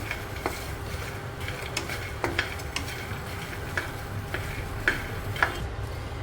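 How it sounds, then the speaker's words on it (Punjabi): Makhana (fox nuts) dry-roasting in a pan, heard as a close, quiet rattle of stirring with scattered sharp ticks and pops over a faint sizzle, spaced irregularly across the stretch, no voices. "ਮਖਾਣੇ ਨੂੰ ਅਸੀਂ ਭੁੰਨ ਲਿਆ ਆ"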